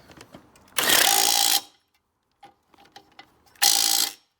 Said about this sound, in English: So a 15/16 socket, send her all the way.